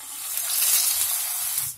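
Wheat vada (alavanku) batter sizzles hard in hot oil, a loud, close, steady crackling hiss that holds for under two seconds and then drops away abruptly.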